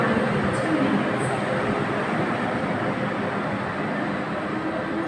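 A Hong Kong Disneyland line train pulls away from the station after its doors close, a steady broadband rumble and rail roar heard from on board, continuous and fairly loud throughout.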